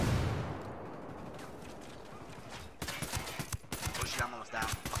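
Gunfire rings out during a helicopter-capture video game firefight, starting as muffled distant shots and turning into sharp, rapid bursts near the end, with people talking over it.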